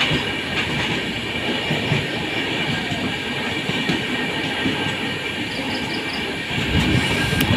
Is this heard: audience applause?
no